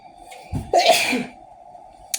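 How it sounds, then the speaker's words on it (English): One loud, close human sneeze with a sharp inhaled build-up and an explosive burst, then quiet room tone, with no talking. "I'm gonna sneeze."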